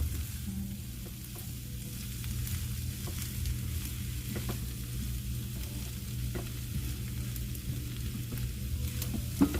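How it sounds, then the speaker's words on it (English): Sausage and potatoes sizzle and simmer steadily in a pan over low heat, a soft continuous crackle with occasional faint pops, close and quiet, with no voices. "just let it simmer like this for about 2 minutes"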